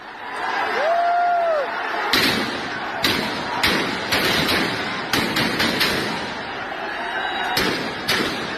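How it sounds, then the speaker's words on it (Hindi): Security forces open fire at a protest outside the presidential palace in Sri Lanka: a string of sharp, loud cracks and thuds at irregular intervals, bunched toward the end, over crowd noise and a rising tonal whistle early on. "आवाजें एक बार फिर सुनिएगा इस फायरिंग की।"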